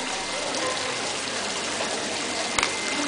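Water runs steadily during a dog's bath, a close, continuous gushing and splashing with one brief knock near the end.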